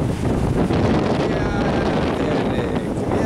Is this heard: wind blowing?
yes